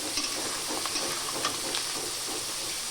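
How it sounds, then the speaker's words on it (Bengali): Onion and capsicum sizzle steadily in a hot pan, with occasional scraping stirs over a constant frying crackle. "এইখানে পেঁয়াজটা ভাজা হয়ে যাক"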